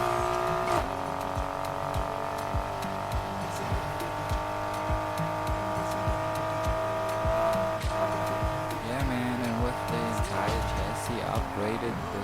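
Nissan Skyline GT-R engine in the racing game Need for Speed Heat, a steady sustained drone with tyre squeal and skidding bursts throughout, loud and continuous while a voice talks over it.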